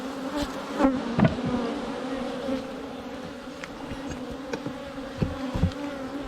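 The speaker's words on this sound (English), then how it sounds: "Lots of bees though, lots of bees." Honey bees in an open top bar beehive give a continuous close, dense buzz, with occasional louder passes from single bees near the hive.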